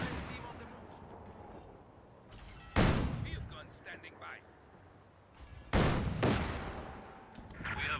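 Rifle shots and booming artillery fire in Company of Heroes 2, two loud sharp blasts with long rumbling tails over quieter scattered battle noise, with soldier voices calling out in between.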